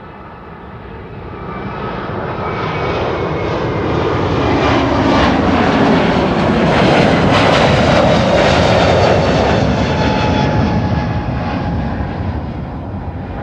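A JetBlue airliner departs Amsterdam Schiphol for Boston, its engine roar swelling from a distant rumble to a loud peak midway, then easing slowly as it passes.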